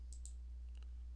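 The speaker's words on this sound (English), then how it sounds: "Right click on the client group" Faint, quick clicks of a computer mouse as a right-click is made, two crisp taps followed by a softer pair over a low steady hum.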